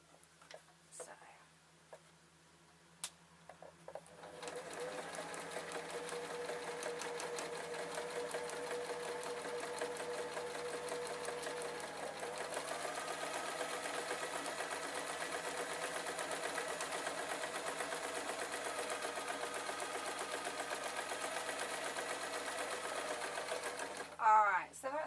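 Sewing machine stitching around a fabric notice board, catching the ribbon ends, a steady close-up hum running for most of the stretch after a few quiet starts, with faint whispery sounds early on.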